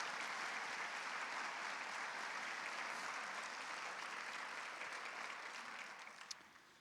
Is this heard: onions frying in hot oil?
no